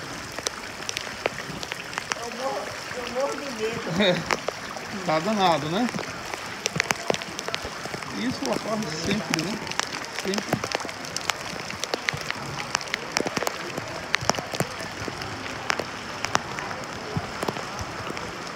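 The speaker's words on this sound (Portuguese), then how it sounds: "Muita chuva. Muita chuva. É chuva demais." Heavy rain pours on a flooded street in Igreja Nova, Alagoas, beside an overflowing creek, a dense, continuous patter with sharp drop hits close by, while people talk over it.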